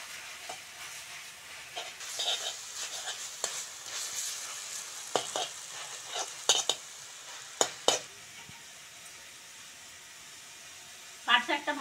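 Jute leaves fry with salt and turmeric in a pan on a village kitchen stove, giving a soft sizzle with repeated sharp scrapes and clinks of stirring. A voice speaks faintly in the background.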